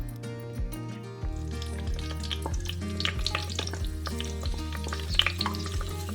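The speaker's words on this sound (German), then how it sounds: "Wir geben jetzt unser Ghee in den Topf und dann springen Paprika und Tomate hinterher." Bell pepper and tomato sizzle in hot ghee in a pot, a steady close crackling hiss with the scrape and clack of stirring running through it, and no voices.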